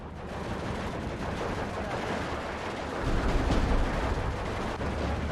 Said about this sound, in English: artillery landed right on that